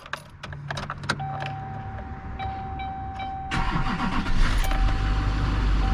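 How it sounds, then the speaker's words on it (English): A 2007–2013 Chevy Silverado 2500HD pickup cranks and its engine catches, with key jingles and dashboard chimes early on, then a sustained running rumble that swells loud and close after starting. "Truck fires right up."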